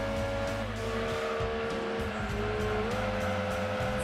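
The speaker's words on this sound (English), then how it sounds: "Drifting it into the first corner" Race car engine drones steadily in Gran Turismo 2 while drifting into a corner, its pitch dipping and rising with gear and throttle changes as tires squeal faintly underneath, continuous and close with no talking.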